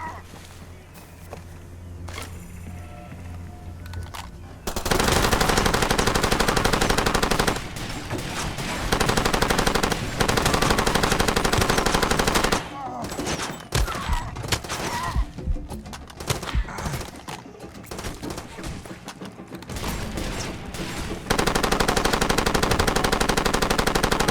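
Gunfire in the Far Cry 2 video game: loud sustained machine-gun bursts cut in and out, with short pauses and quieter stretches between the volleys, and no voices.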